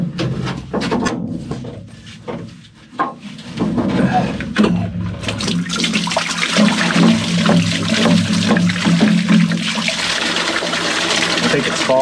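Raw cooling water flows through a boat's seacock as a steady, loud rushing gush that rises after a few seconds of clunks and handling noises. Voices speak over it at times.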